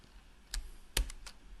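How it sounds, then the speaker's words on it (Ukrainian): Computer keyboard keys pressed for a Ctrl-Shift-P shortcut, three or four quick, crisp clicks close together in a quiet room, with no voices. "потрібно натиснути на клавіатурі Ctrl-Shift плюс P"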